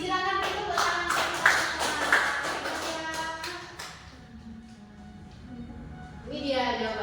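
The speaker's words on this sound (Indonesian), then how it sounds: "Silakan tepuk tangan." Classroom students clapping their hands together during a microteaching lesson, a burst of fairly close, rhythmic claps for a few seconds followed by quieter room sound and a voice speaking near the end.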